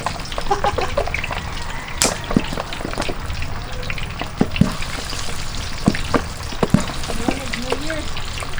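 Bagnet pork frying in hot oil in an outdoor cooking pot, a steady close crackle dotted with sharp pops and spatters, while a voice talks briefly over the sizzle.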